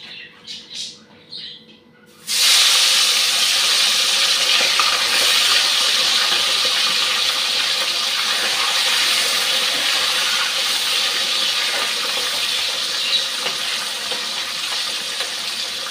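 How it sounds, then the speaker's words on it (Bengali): Fish sizzles loudly in hot oil in a home kitchen, a sudden burst of dense crackling and hissing after a quieter moment of handling, then a steady frying sizzle throughout. "মাছটা ভাজতে দিয়ে দিচ্ছি।"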